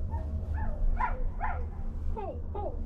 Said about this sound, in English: There's like four dogs back here.